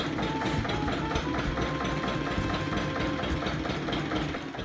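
Massive EMD 567 V16 diesel engine at full throttle on a test stand in a workshop, a dense, steady throbbing roar with rapid knocking pulses, loud and continuous.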